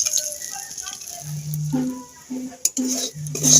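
Semolina stirred and frying in ghee in a pan, a soft close sizzle under intermittent spoon scrapes and clinks against the metal, with a voice speaking briefly.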